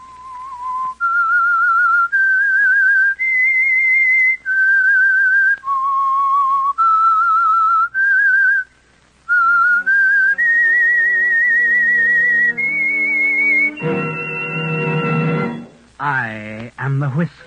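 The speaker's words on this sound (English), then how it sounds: "That whistle is your signal for the Whistler." Melodic human whistling plays a radio mystery show's theme signal, a series of clear sustained notes rising and falling in a tune, loud and close, ending with orchestral music swelling in.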